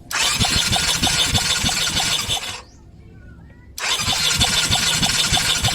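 A Yamaha Mio 125 scooter with engine oil mixed into its radiator coolant cranks with a loud, whirring starter. It cranks in two bursts separated by a short pause, close to the bike.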